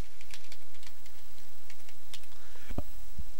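A search is typed on a computer keyboard in quick, light, irregular clicks close by, ending in a couple of firmer key presses.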